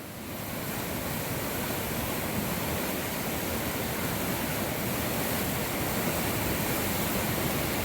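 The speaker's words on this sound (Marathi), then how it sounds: "धरणातून मोठ्या प्रमाणात जायकवाडीच्या दिशेने पाण्याचा विसर्ग केला जातोय" Large volume of water gushing out of the Nandur Madhmeshwar dam as it releases its overflow, a steady, loud, continuous roar with no pauses, heard up close and alone without voices.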